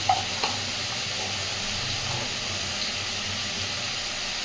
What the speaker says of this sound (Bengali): খুব ভালোভাবে সব কিছু একটু ভেজে নেব